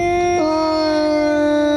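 A long, sustained wavering cat yowl from cats fighting, with a brief pitch shift, loud and close, drawn out like a howling standoff.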